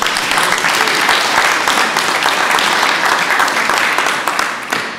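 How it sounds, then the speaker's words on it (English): Sustained, loud audience applause fills the room at the close of a business talk, a steady dense wash of clapping throughout. "one more round of applause"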